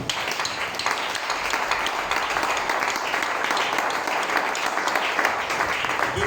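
A church congregation at a Sunday service applauds the Lord with steady, dense clapping from many hands that keeps an even level throughout.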